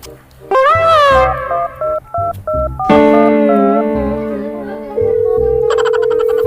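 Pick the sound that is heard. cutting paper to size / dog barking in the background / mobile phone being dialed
mobile phone being dialed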